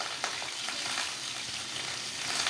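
Chicken shashlik skewers fry gently in oil over low heat, giving a soft, steady hiss with faint crackles and one small tap near the start.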